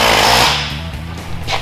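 A handheld power grinder works down welds on a rock crawler's front end, whining loud and close at first, then dropping in pitch as it slows, with a brief bright scrape near the end.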